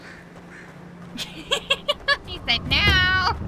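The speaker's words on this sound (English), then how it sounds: "If you hear some meowing in the background" A pet cat meowing in a room with a few short, repeated cries, close and fairly loud, alongside someone talking.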